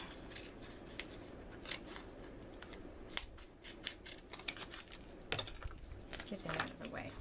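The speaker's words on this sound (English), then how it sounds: "Let me just cut this." Scissors snip through adhesive vinyl for a Cricut coffee-themed craft project, a series of quiet, crisp cuts close by at a tabletop, with a little handling noise in between.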